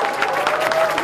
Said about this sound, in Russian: Давайте поаплодируем